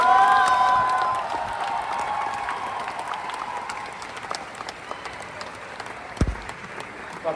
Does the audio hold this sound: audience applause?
yes